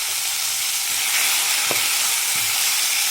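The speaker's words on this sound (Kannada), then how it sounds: "ಕಡಿಮೆ ಉರಿಯಲ್ಲಿ ಫ್ರೈ ಆಗಲಿ ಇದು." Chopped tomatoes frying over low heat in a pan for sambar, a steady broadband sizzle with faint stirring clicks, close and continuous with no talk.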